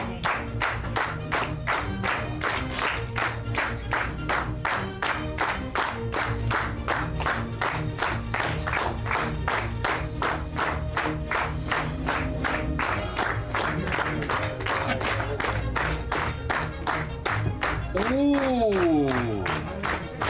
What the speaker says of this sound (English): A little bit of clapping would be very good tonight.